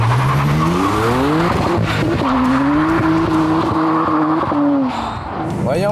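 A BMW 335i fitted with two big turbos launching from a standstill in launch control mode, its engine roaring loudly and climbing in pitch, with tire squeal and skidding close by and voices over the din.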